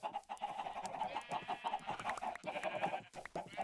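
Chickens in a video game chicken house cluck steadily and close, a dense overlapping flock of short clucks and squawks with no pauses.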